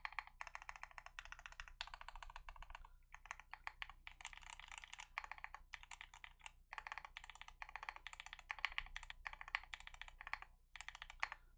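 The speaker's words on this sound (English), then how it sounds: "Let's do a bit of a typing test and see how it comes out." Typing on a Mode 80 mechanical keyboard with no plate: fast bursts of crisp, close keystrokes with short pauses, alone and without speech.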